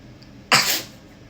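A single sharp sneeze bursts out close and loud, brief and explosive, with quiet room tone before and after.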